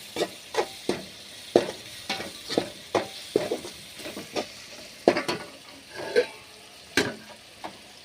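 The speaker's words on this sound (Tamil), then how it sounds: "மஞ்சத்தூள் மிளகாத்தூள் எல்லாமே எண்ணெயில் பொரியும் போது நல்லா டேஸ்ட்டு வரும்" Turmeric and chili powder fry in hot oil for a village garlic-pepper kulambu, giving a steady close sizzle broken by repeated sharp stirring scrapes of a spoon against the pan, with no talking.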